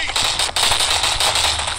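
Rapid gunfire in an FPS shooting game, loud and dense sharp shots fired in quick succession, with a voice talking underneath.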